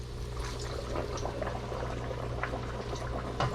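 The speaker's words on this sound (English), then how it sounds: "once you hit 375 degrees, you're going to drop your chicken in" Chicken in batter dropped into hot oil at 375 degrees, a dense continuous bubbling sizzle at steady level with small crackling pops throughout, no voices.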